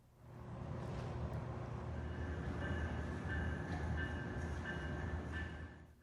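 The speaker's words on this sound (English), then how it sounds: "Arriving through the fog on track 1 was Amtrak 30, the Capital Limited." The Amtrak Capital Limited passenger train rumbles past nearby into a station, with steady rolling wheel noise and faint squeals, rising in and fading out over a few seconds.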